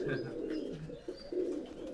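Pakistani pigeons cooing at close range in a loft, soft low throaty coos repeating in steady overlapping phrases.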